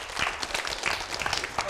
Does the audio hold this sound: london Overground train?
no